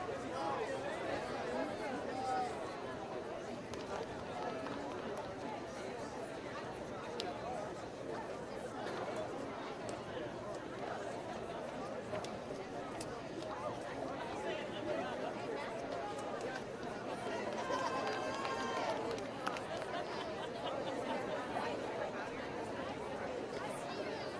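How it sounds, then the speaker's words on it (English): Dense crowd chatter and babble from spectators at a men's college soccer match, Swarthmore against Immaculata, holding steady and fairly loud throughout with no single voice standing out. "Picking up a lot of crowd noise."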